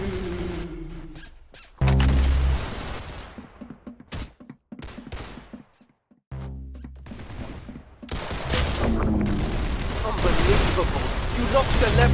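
Bursts of rapid gunfire ring out in the Roblox game Arsenal on the aircraft map, with loud volleys separated by brief quiet gaps and heavier firing toward the end, mixed with game sounds.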